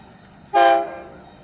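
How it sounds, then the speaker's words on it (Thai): A single short, tonal horn blast from a Thai express train sounds at moderate distance over quiet background noise, then fades away. "เสียงวีดนะครับ"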